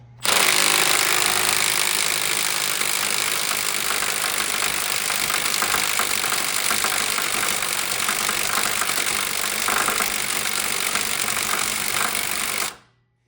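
A Milwaukee 3/8-inch impact wrench hammers at a 2007 Honda Civic crank pulley bolt in one loud, unbroken rattling burst lasting about twelve seconds, then cuts off abruptly.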